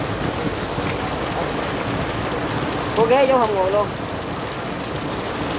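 Heavy rain pours steadily over a flooded street, a dense constant hiss close by, while people talk through it and a brief melodic sound rises over the downpour midway.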